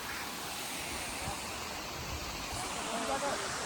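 Waterfall near Manali, a dense, steady roar of falling water filling the whole stretch without pause.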